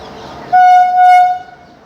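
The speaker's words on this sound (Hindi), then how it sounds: "प्लेटफॉर्म नंबर 2 पर आ रही है छत्तीसगढ़ एक्सप्रेस" The Chhattisgarh Express at a railway platform gives one loud, steady horn blast of about a second, close by and clear over faint background noise.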